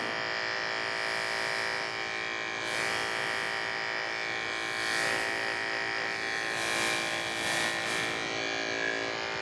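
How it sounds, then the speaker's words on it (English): Electric hair clipper buzzing steadily at close range during a wave-length taper haircut at a barbershop, a continuous motorized drone with slight swells as the blades meet hair, no talking over it. "as soon as that clipper makes contact, I pull out"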